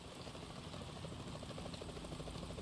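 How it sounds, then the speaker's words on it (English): A helicopter in the Metal Gear Solid 2 tanker level, its steady rotor chop and engine drone filling the background at a moderate distance, with no clear voices over it. "Is that a chopper I just heard?"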